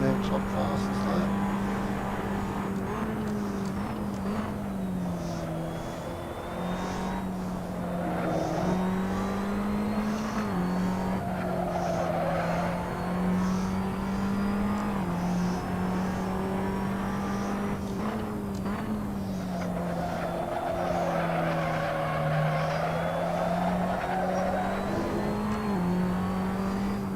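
A race car runs hard laps, its engine holding a loud, steady, buzzing drone that rises and falls slightly with the throttle throughout, close and continuous.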